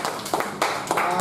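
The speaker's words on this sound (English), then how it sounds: "a big round of applause for every speaker" Clapping from a Toastmasters meeting audience for the speakers, a short burst of several hands heard as close, fairly soft patters with a few louder claps.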